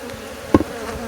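Loud, close buzzing of aggressive honeybees, a dense droning hum with a sharp thump as one bumps near.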